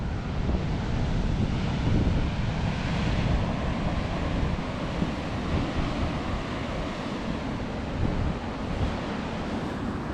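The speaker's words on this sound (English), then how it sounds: "there's some massive waves out here" Big waves crash and churn continuously on the North Sea coast of Scotland, a broad roaring surge heard from a distance, with wind buffeting the microphone throughout.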